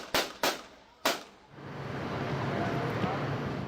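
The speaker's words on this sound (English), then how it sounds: "In this witness video, police appear to fire 9 shots." Three sharp gunshots from police crack in quick succession, loud and near, during a street attack, followed by a broad rushing noise that resembles wind or traffic.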